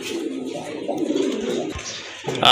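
A female racing pigeon coos in soft, rolling bursts close by, with a brief sharper sound near the end and no speech.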